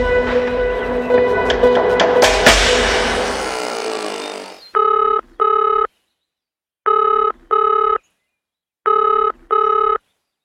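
Telephone ringing while a call is placed: a loud musical tone decays over several seconds, then three pairs of electronic ring bursts repeat in a steady rhythm, alone with no talk.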